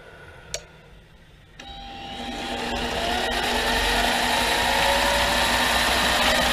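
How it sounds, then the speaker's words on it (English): A mini lathe drills into a workpiece with a larger drill bit. After a sharp click the motor starts, and a steady whine builds and holds, close and fairly loud. "we'll step up to a little larger drill bit"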